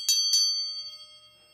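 A short metal bar held in the middle is struck twice, giving two bright, close chime-like rings that decay slowly into silence.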